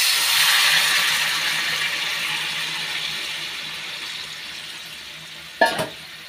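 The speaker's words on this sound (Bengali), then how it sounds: "এই যে দেখো ফুলকপি আলুটা ভাজা হয়ে গেছে কষানো মশলা দিয়ে। এখন দিয়ে দেবো গরম জল।" Hot water hits a pan of fried cauliflower and potatoes cooked with spices, setting off a loud, close hiss that slowly fades, followed by a brief metallic clank near the end.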